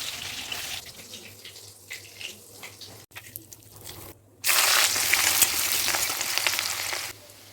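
Onions fry in a pan for a kuchia eel fish dish, with quiet kitchen clatter first, then a loud, steady sizzle that starts midway and carries on.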